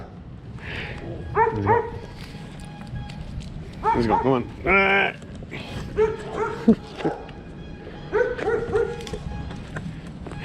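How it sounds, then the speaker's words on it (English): Dogs bark, yip and whimper while fighting on a street in Merida, Mexico, in several loud bursts, with a person calling out over the commotion. "look, those dogs are going after each other over there."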